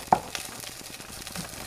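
Cooked rice is tipped all at once into a hot pan for stir-frying, starting with a sharp clatter and settling into a brief, close sizzle.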